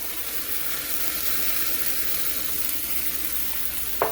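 Tomato sauce poured into a pan on low heat sizzles as a steady, dense hiss that holds evenly from start to finish, close and fairly loud, with no voices.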